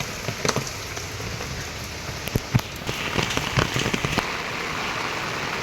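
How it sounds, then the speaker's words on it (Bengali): Heavy rain pours outdoors on a street, a dense steady hiss of drops on surfaces, with scattered sharper splats and taps standing out against the constant downpour. "ভালোই বৃষ্টি হচ্ছে"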